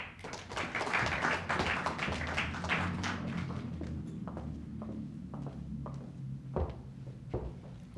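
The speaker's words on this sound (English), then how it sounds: "Let's give our fellows a round of applause" Applause for fellows at an urban practice symposium: dense clapping from a seated audience at the start, then thinning into scattered individual claps and taps. Low murmuring runs underneath.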